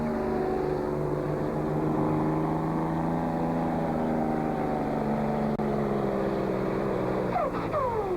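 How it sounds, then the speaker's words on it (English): A loud Dodge Bighorn pulling truck engine drones steadily at a truck pull, its turbochargers roaring and then dropping off as the pull ends. "A lot of horsepower. The turbochargers unload."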